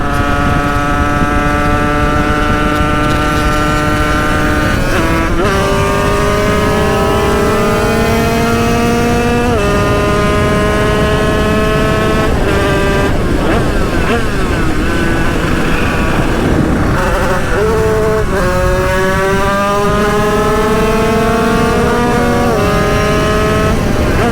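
A tuned 50cc moped fitted with an 86cc Top alu kit revs loud and close, its high engine whine climbing and dropping repeatedly through gear changes for a sustained ride.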